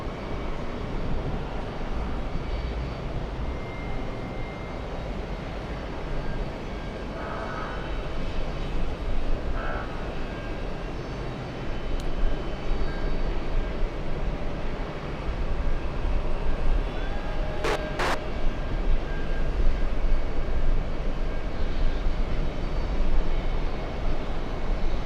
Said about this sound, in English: We have an arrival. It's JetBlue 817. It's an Airbus A380 flying in from Boston.